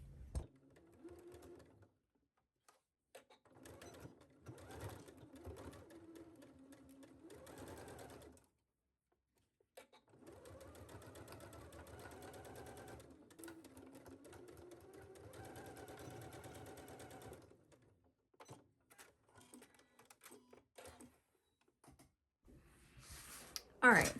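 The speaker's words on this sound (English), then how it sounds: "we're going to take this to our sewing machine and sew it at 5/8 of an inch seam allowance on each side" A sewing machine stitches a lined dress seam at a 5/8 inch allowance in several steady mechanical runs of rapid needle chatter separated by short pauses, with quiet talk in some gaps.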